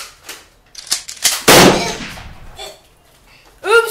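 Gunfire in a playful mock fight, a few sharp cracks followed by a louder burst around the middle, then quieter noise and a brief vocal sound at the end.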